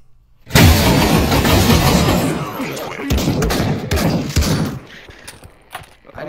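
Gunfire in the VR shooter Pavlov: a dense, loud volley of rapid shots at close range that runs for about four seconds, then thins into scattered single cracks and mechanical clatter.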